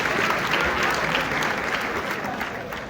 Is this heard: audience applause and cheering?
yes